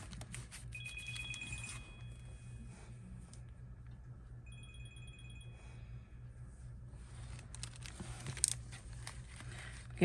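A telephone rings faintly in the background of a craft room during gift-package making, two separate bursts of high electronic ringing over a low steady hum, with no talk.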